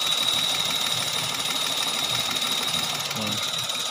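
A 1000 cc Toyota Agya or Daihatsu Ayla engine idles with a worn clutch release bearing, a constant whirring, rattling noise throughout and a thin high whine above it, close and continuous.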